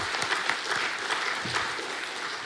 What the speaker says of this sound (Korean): 우리 박 목사님 위해서도 격려와 사랑의 박수 한번 보내주십시오.